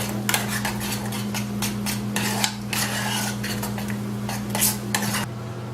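A keto pizza mixture is stirred in a bowl, giving repeated scraping clinks of a utensil against the bowl in an irregular rhythm, close and fairly loud over a steady low hum.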